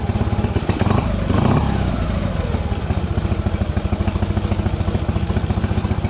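A motorcycle engine idles at low revs with a steady, rapid chugging pulse, close and fairly loud, briefly swelling around the second second before settling back into an even idle throughout.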